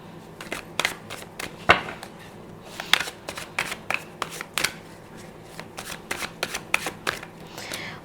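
Tarot cards being shuffled and drawn by hand, a run of crisp close slaps and riffles in an uneven rhythm, with soft rustling between the sharper snaps and no voice.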